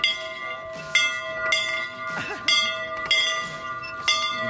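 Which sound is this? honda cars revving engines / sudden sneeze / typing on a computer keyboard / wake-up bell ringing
wake-up bell ringing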